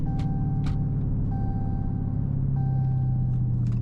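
A cammed Dodge Hellcat Charger in track mode drones with a deep, steady engine and exhaust rumble while driving. Short chime-like tones sound over it at intervals.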